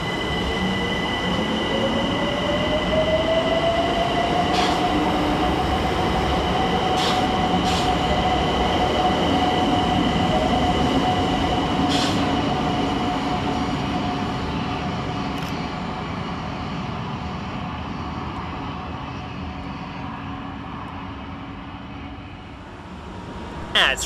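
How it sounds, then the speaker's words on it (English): A London Overground Class 378 electric train departs Surrey Quays station on the far track, with a rising motor whine that settles into a steady hum, rumbling wheels and a few sharp clicks, fading gradually as it pulls away. "Over on the far side sees the departure of 378150 with the 1409 London Overground service from Clapham Junction to Highbury and"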